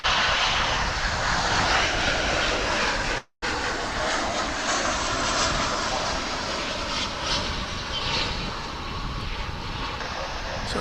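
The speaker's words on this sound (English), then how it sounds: "So that one either was waved off the takeoff or elected not to take off for whatever reason." An American Airlines jet on the runway at Dallas/Fort Worth airport, aborting its takeoff, sends out a sustained, broad engine roar that holds steady and fairly loud, broken by one brief gap.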